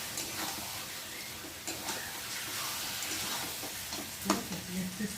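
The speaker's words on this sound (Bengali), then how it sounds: "এবার দিয়ে দেবো লঙ্কা গুঁড়ো, দিয়ে একটু ভালো করে নেড়ে নেব।" Chili powder being stirred into frying biryani with tomato in a pot, a steady sizzle with scraping stirs and clinks close by, and a brief faint voice near the end.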